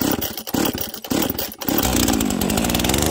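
Husqvarna 242 XPG chainsaw firing up in the cold, a few choppy sputtering pulls before the small two-stroke engine catches and settles into a loud, steady high idle, up close.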